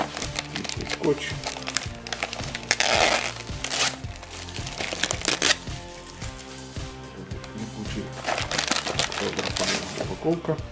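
Packaging of AliExpress Bluetooth sports earphones being unwrapped, with steady close crinkling and crunching of plastic and cardboard and sharp rustles throughout, under someone speaking.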